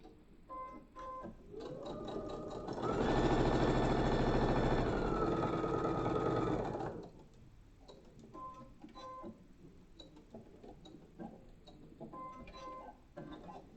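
A sewing machine runs steadily for about four seconds while stitching along the edges of a fabric potholder, with a steady mid-pitched motor hum and clatter. Quieter ticking and handling noises come before and after.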